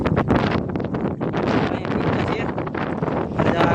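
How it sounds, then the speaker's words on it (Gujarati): Strong wind roaring and buffeting the microphone in loud, continuous gusts, filling the whole clip. "પવન બહુ છે, તોફાન ઉપડી ગયું છે"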